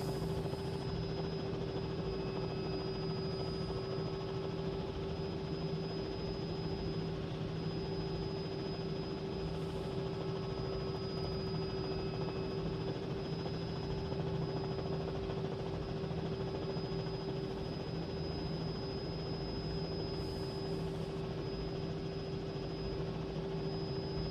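A simulated Robinson R66 helicopter from Cowan Sim in Microsoft Flight Simulator 2020 runs with a constant turbine whine and steady rotor drone, an unbroken, even engine tone with a high steady pitch and no voices.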